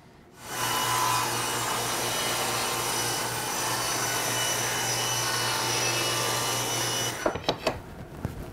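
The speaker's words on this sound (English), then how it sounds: "So now I've got that one side ripped down." A saw rips a wooden board lengthwise for a Z-back door, giving a steady loud whine and rasping cut that runs for about six seconds, followed by a few sharp clunks as the cut ends.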